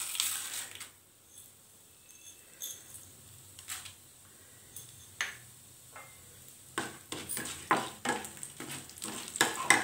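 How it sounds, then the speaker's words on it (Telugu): Fenugreek seeds fry in a pan for an amla chutney, giving sparse crackles and small pops over a quiet background that grow busier and louder toward the end, with spoon scrapes mixed in. "మెంతులు కొంచెం ఫ్రై అయిన తర్వాత కొద్దిగా మినపప్పు వేసుకోవాలి."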